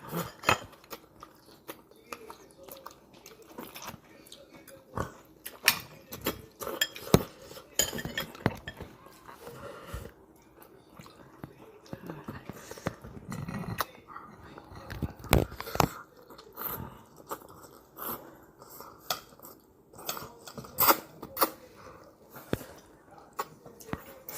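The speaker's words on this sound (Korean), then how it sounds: "마라탕 먹방" Someone eats mala tang up close: clinking cutlery and bowl knocks mix with irregular chewing and slurping sounds, all fairly quiet and intermittent.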